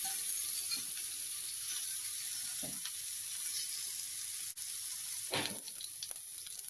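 Steady sizzling of hot oil as mustard seeds pop, with a few sharp crackles and pops scattered through, close up, no voices.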